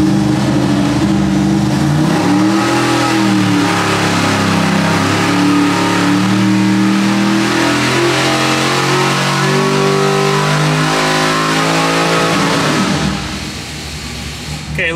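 A 1,000 hp 632 cubic inch Smeding big block Chevy V8 on a dyno, a loud sustained roar that climbs steadily in pitch under full load, then drops off near the end.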